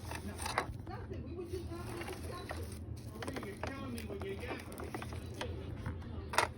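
A sewing machine runs a continuous stitch, giving a steady mechanical whir with light ratcheting clicks that carries on without a break.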